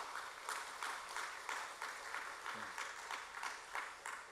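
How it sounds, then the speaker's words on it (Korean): A church congregation applauding during a women's mission society dedication service, steady dense clapping heard from a distance and fairly quiet, with no talk over it. "우리 박수 한번 하시겠습니다."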